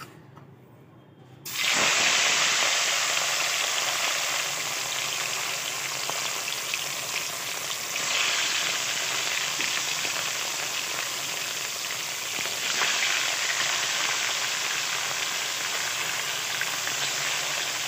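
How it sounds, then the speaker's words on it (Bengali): Katla fish pieces, each over 100 grams, frying in oil in a pan, a loud continuous broadband sizzle that erupts suddenly after a quiet start and holds steady, with slight swells, for the rest of the clip. "মাছগুলো ভাজবো এক এক করে।"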